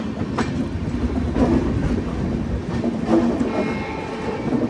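The Guwahati–NJP Express rolls past close by in a rail yard, a continuous rumbling clatter of wheels with rhythmic clicks over the track joints and no talking.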